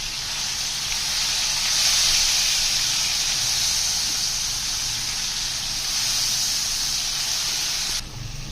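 Chopped onions and tomatoes hit a hot pan and sizzle in a loud, steady hiss that runs unbroken for about eight seconds, then drops off sharply near the end.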